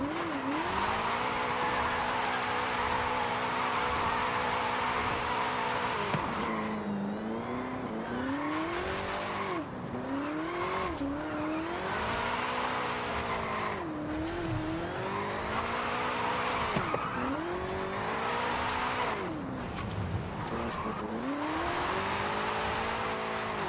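A supercharged Ford Mustang GT drifting in a racing game, engine droning and revving in repeated rising and falling sweeps while tires squeal continuously, loud and close for the whole stretch.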